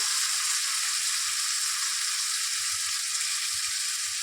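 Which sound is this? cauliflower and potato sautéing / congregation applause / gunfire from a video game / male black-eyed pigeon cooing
cauliflower and potato sautéing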